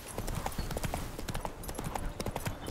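Horse hooves clop at a steady walking pace in Witcher 3: Hearts of Stone, a regular rhythmic stream of hoof strikes on the ground, moderately close and continuous under faint game ambience.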